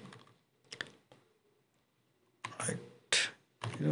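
An OTP code is typed on a computer keyboard while opening an online bank account, producing short clusters of crisp key clicks separated by quiet pauses, close and soft.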